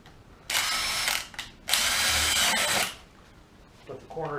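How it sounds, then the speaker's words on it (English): A handheld power drill bores 1/4 inch holes around the edge of a vacuum forming buck, two loud whining bursts of about a second each, close up, followed by quieter clatter. "I grab a drill and I drill in 1/4 inch holes all the way around it"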